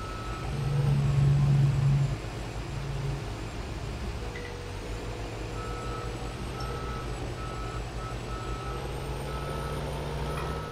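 A semi truck pulls onto the road on Goldcrest Valley in a farming video game, with a steady low engine drone and a thin electronic beep that repeats throughout. No one speaks.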